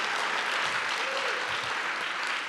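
A Code4Lib 2024 conference audience applauds, a short continuous wash of clapping with a faint voice briefly audible beneath it.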